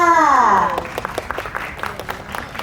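Clapping at a Thai press event for a TV series' ceremony follows a voice, with scattered hand claps continuing softly after her words fade.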